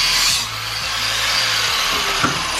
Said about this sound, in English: when in doubt, just cut the strut in half